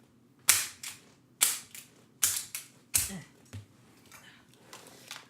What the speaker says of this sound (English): let me just crack this shit open